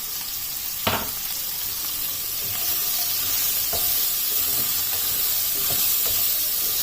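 Green capsicum and green onion stir-frying in a pan for a spicy chicken roll filling, a steady close sizzle with brief clatters of stirring, growing slightly louder partway through.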